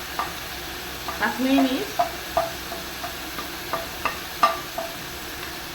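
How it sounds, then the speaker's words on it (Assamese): Masala spices, including Kashmiri chili, half-fried in a pan while being stirred for an egg dish, with a soft continuous sizzle under repeated scraping strokes of a spatula and a short spoken phrase over it. "এয়া মোৰ মছলাখিনি প্ৰায় আধা ভজা হৈ গৈছে।"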